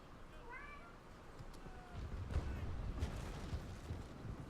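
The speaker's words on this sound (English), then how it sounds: "Cat's mewing at me." A cat gives a short high meow early on, close but faint, over a steady room hum, followed by booming cannon fire from a naval sailing game.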